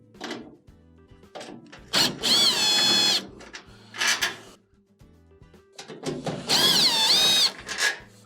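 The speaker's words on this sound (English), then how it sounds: "we have two screws, both Phillips, one on each side, that will have to be removed." Power screwdriver backing out Phillips screws from a GE dryer, with two whining motor bursts separated by clunks and handling knocks, close and loud.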